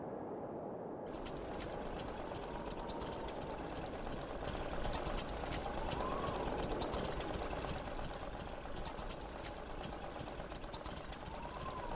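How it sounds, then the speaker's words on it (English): An old motor on a motorcycle-like hang-glider sailing rig starts up and runs with a steady, fast mechanical chatter, loud and continuous from the first second to the end, with no talk over it. "You can hear this old motor kick over."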